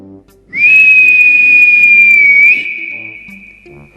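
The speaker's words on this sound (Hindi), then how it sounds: "इसी तरह की सीटी की आवाज मैं सुनना चाहता था।" A person whistles one long, loud, steady note that holds for about two seconds, then drops to a quieter sustained tone as it fades.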